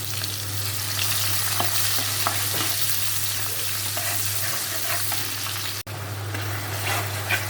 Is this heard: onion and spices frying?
yes